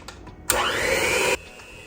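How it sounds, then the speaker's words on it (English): An electric hand mixer on its lowest setting folds strawberries into cake batter, running in one steady whirring burst of just under a second that starts and stops abruptly, close and fairly loud, with no talking. "So I mix these strawberries in on the lowest setting."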